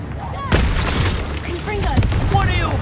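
An Incendio fire spell cast in Hogwarts Legacy sets off several sharp, booming bursts among crackling game effects, with a voice speaking over the action.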